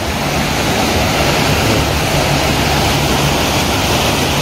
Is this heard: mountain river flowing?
yes